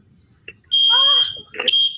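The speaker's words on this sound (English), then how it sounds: "Now the alarm's going on." Smoke alarm shrilling from a video being played, a piercing high steady tone in two bursts, heard up close as voices talk over it.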